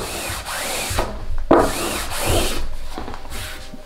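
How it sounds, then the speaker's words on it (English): A squeegee is dragged across a printed shirt in several firm, scraping passes, each a rough rubbing swipe close by, with brief gaps between strokes and no talk. "Now I took a squeegee."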